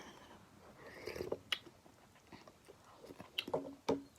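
Someone eating a tall cup of Mama instant noodles: quiet, close-up bites and chewing with a few sharper crunchy clicks, scattered irregularly over a low background hiss.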